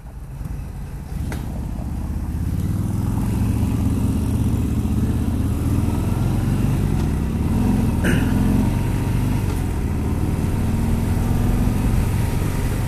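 A 2018 Harley-Davidson Fat Bob motorcycle rumbles steadily while being ridden, its low engine note joined by wind rush and a few faint clicks throughout.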